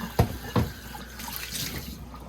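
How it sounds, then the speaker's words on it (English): A clean glass jar is washed under a running kitchen tap: two sharp knocks of glass come first, followed by a faint, steady wash of water that continues to the end. "we're going to make sure you wash the jar, clean it, and again, no residual of any oil in there."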